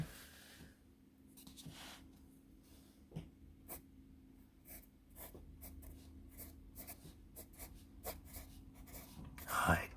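Graphite of a USA-made Ticonderoga No. 2 pencil scratching across paper on a thick pad, soft steady rubbing strokes with short pauses, close and quiet.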